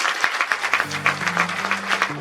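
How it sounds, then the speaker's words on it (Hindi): A crowd at a university event at J.C. Bose University claps in a rhythmic, beat-like pattern over a sustained musical tone, moderately loud and continuous. "जरा इनके नाम पे एक बार जोरदार ताली लगा दो।"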